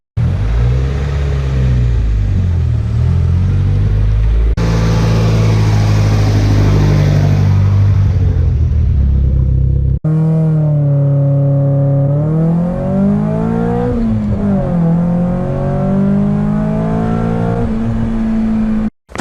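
A Nissan Silvia S15 accelerates hard through a run, its loud engine climbing through the revs over several gear changes, with brief drops between shifts and a final rising pull before cutting off.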